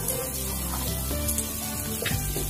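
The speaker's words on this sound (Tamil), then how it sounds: "வெங்காயம் நல்லா வதங்கிட்டு அதோட கடுகு புளியும் போட்டு வதக்கிங்க." Onions sautéing in oil with mustard seeds and tamarind for a ridge gourd curry, a continuous soft sizzle and crackle close by, with no talking.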